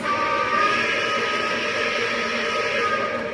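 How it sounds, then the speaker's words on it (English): A Lionel LionChief 2.0 Plus #773 4-6-4 Hudson model train's quilling whistle sounds steadily throughout, a sustained, slightly wavering tone with several pitches over a continuous running rumble, fairly loud and close. "This one's got a quilling whistle, I think is fabulous"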